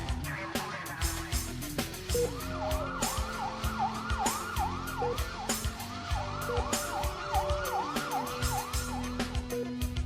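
An ambulance siren wails in a repeating rising-and-falling pattern, steady and moderately distant, over a background of traffic and street noise.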